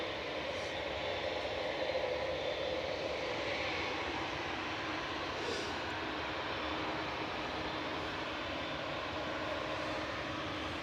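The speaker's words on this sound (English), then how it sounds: "Ryanair lined up and ready to go on 2-3 left" A Ryanair Boeing 737-800 airliner roars steadily on its takeoff run from runway 23L at Manchester Airport, a constant broad engine noise heard from a distance without speech.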